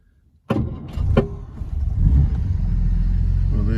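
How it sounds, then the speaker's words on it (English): A 1962 Jaguar Mark 2 with its 3.4 engine, cold, cranks briefly and catches at once, then settles into a steady, loud idle rumble close by, with a small rise in revs. "So let's start her up, and let's just see how she starts"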